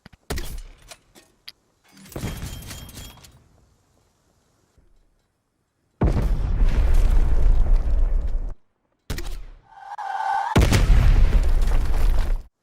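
Gunfire in Black Ops Cold War on the Amerika map, several loud booming shots in separate bursts with quiet gaps between them, the later blasts heavier and longer.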